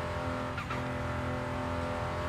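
A car brakes hard into a corner while holding third gear, the engine droning loudly as a brief tire squeal cuts through midway, no talk.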